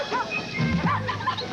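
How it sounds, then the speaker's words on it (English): Dog barking in a 1985 Bud Light beer commercial aired during a TV hockey broadcast: a few short yips and woofs close up, mixed with other commercial sound. "Dogs."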